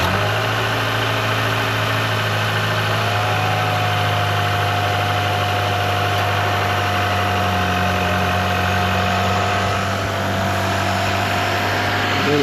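A 2023 Chevy Colorado LT with a newly fitted blow off valve idles steadily, a loud, even mid-pitched engine drone with a constant hum and a faint rising whine, close and uninterrupted with no talk.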